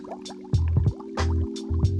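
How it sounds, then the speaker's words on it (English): Water heated to just below boiling is poured into a container in several short, close pours, each a gurgling, splashing fill with brief drips between, over a steady low hum. "Next, heat water to just below boiling and pour it into one of your containers."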